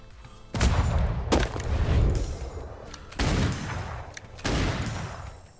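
Several bursts of gunfire from enemies at a wild pirate encampment in the video game Atlas, loud and close, each lasting a second or more, with rumbling booms between them and no talk.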